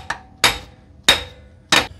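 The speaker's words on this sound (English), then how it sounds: "take a hammer, you're gonna have to hit this direction, and usually it'll just pop that seal off." A hammer knocks a stuck wheel locking pin loose on a car wheel with four sharp, loud metallic strikes, close up and evenly spaced about half a second apart. Each blow rings briefly before the next.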